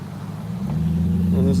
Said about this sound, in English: And this is loud red truck.